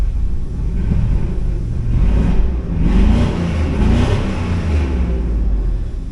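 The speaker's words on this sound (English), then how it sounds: "Oh look, we got a misfire." Chevrolet Silverado 2500HD from 2002 with the LQ4 6.0L V8, running with a misfire: a loud, continuous low engine rumble with an uneven, lumpy pulse, close by and with no talking.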